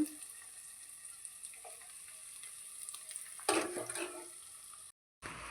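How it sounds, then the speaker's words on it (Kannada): Cooked rice being mixed into gojju in a pan to make chitranna, with soft scraping and sizzling under steady background hiss, a louder burst of stirring near the end, then a brief cut to silence. "ಇವಾಗ ನಾನು ಕೂಡ ಅನ್ನ ಎಲ್ಲನೂ ಕೂಡ ಮಿಕ್ಸ್ ಮಾಡ್ತಾಯಿದ್ದೀನಿ"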